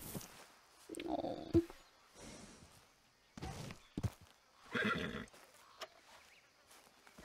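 A horse neighs and its hooves clop in the Red Dead Redemption game during an epilogue scene, with short whinnies and footfalls separated by quiet gaps, all faint.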